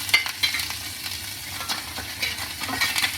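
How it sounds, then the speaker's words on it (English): Pork short ribs with garlic sauté in a pan on medium-low heat, giving a steady close sizzle with light stirring and scraping scattered throughout. "I'm going to just saute them for a couple of minutes."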